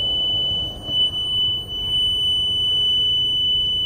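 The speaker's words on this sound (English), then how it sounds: "the buzzer will stay on" A steady high-pitched electronic buzzer tone on a chicken egg incubator holds continuously, with a faint low rumble of background noise beneath it.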